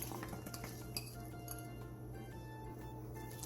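Cucumber, radish, paprika, hot green chili and green onion being tossed together in a bowl, soft clinks and scrapes of a utensil against the dish over a low steady hum, quiet and close.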